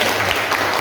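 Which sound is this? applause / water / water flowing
applause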